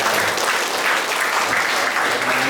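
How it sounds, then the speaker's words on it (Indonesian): An audience at a civil servants' gathering claps loudly and steadily, the dense applause filling the whole span without pause. "Tepuk tangan coba."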